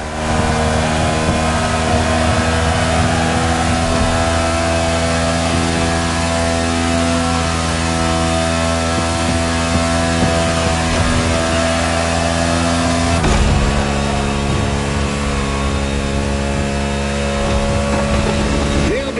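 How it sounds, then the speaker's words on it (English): Race car engines in the video game The Crew Motorfest drone and rev loudly and continuously, a dense harmonic whine that shifts pitch sharply partway through as gears change. "Wow, that 61 car is flying."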